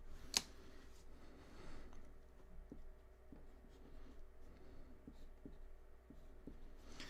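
Marker or chalk strokes on a lecture board, a series of soft scratchy taps and short scrapes at a steady pace, faint and close amid low room hum.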